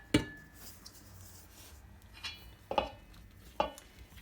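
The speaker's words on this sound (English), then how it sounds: "And now I'm gonna put the egg mixture." Sharp clinks and scrapes of a utensil against a bowl as egg mixture goes into flour for biscotti dough, three or four distinct knocks spaced apart in a quiet kitchen.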